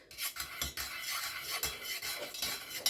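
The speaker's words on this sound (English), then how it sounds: "I'm going to literally start mixing it into my wax" Dye is stirred into a pot of melted candle wax with a utensil. Close, continuous scraping swirls are broken by several sharp taps against the container, with no talk.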